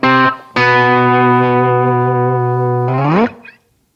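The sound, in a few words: electric guitar through DigiTech Bad Monkey overdrive, Stulce amp, Marshall 212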